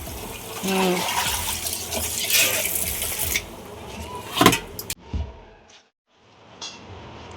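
Tap water running as mutton offal is washed in a kitchen, a splashing flow under talking voices for several seconds, then cut off abruptly, leaving near silence with a few faint sounds.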